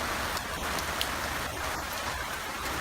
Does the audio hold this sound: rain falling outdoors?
yes